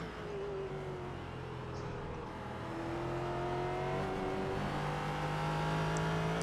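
A race car engine drones steadily in iRacing at Watkins Glen, its pitch sweeping up through the gears as the car accelerates, with a second engine layered faintly underneath.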